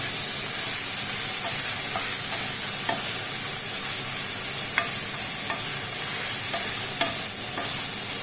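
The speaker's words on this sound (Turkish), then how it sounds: "Kıymamızı kavurmaya başladık." Minced meat frying and being stirred in a pan, a steady loud sizzle with hissing steam throughout and occasional light scrapes of the spoon.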